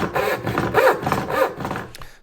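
Restored, sharpened vintage Disston D-8 rip handsaw cutting through wood in several steady back-and-forth strokes, close and fairly loud, with a rasping rhythm and no speech over it.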